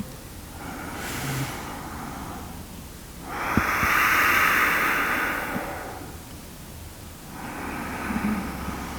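Slow, audible pranayama breaths rasp through a narrowed throat with the mouth closed, each long inhale and exhale hissing softly with a gentle ocean-like whoosh, close and unhurried.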